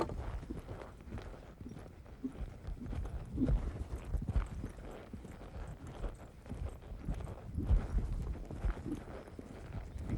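Hooves of a young horse clip-clop steadily in a quick, rhythmic canter on a small turn, fairly close and moderately loud throughout with no talk.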